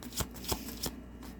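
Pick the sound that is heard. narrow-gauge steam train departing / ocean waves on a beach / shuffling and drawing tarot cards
shuffling and drawing tarot cards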